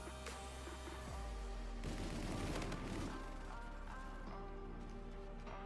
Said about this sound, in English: If I'm using a freaking minigun, I'm trying to maul people.